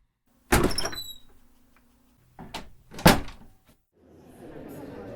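A door opens with a sharp thud and later swings shut as four people walk out together, giving a few loud, close knocks and scrapes separated by short quiet gaps before a softer rustle of movement.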